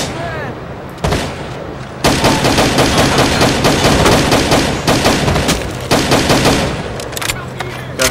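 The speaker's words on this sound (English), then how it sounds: "Taking grenade and like sporadic gunfire over to the left beyond this fence." Bursts of rapid automatic gunfire and single shots crackle sporadically through a Rainbow Six Vegas 2 rooftop firefight, loud and close, dense at times and then thinning out, with no voices over them.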